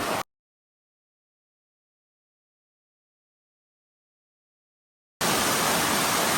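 Waterfall on Eliza Brook pouring down over rocks, a loud, steady broadband rush heard briefly at the start, then a long stretch of silence before the roar returns near the end.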